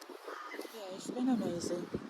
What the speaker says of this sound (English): They're crows, right? I've never seen so many crows.